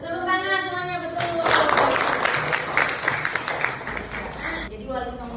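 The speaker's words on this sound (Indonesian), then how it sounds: "Tepuk tangan semuanya, betul." A class of seventh-grade students bursts into applause after a voice briefly speaks. The clapping is dense, lively and close, lasts about three and a half seconds, then fades as the voice returns.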